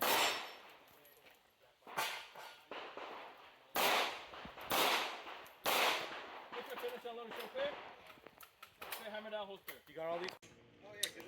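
Pistol shots ring out on a USPSA shooting stage as a string of sharp, widely spaced cracks with uneven gaps, mixed with voices talking between and over them.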